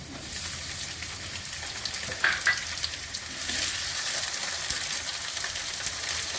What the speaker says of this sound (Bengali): আলুগুলো একটু ভাজা হয়ে গেছে, এবার পেঁয়াজ দিয়ে দিচ্ছি।